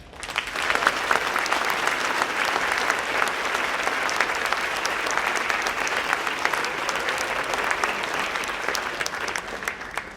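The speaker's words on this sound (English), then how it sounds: "I wanted to start with a round of applause for all of the retired priests that are with us here tonight." Steady, sustained applause from a dinner crowd honoring retired priests at an archbishop's banquet, many hands clapping evenly for about ten seconds in a large room.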